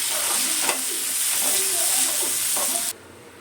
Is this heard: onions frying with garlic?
yes